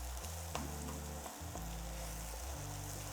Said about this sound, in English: We're going to get them coated in the juices that are in the pan